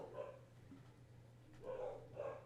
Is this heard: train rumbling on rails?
no